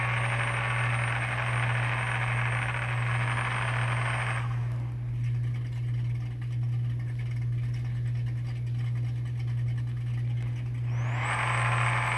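Drag car in the racing game No Limit 2.0, on a no-prep track, accelerating down the strip: a loud, steady engine roar over a constant low drone. The broad roar drops away midway, then returns near the end.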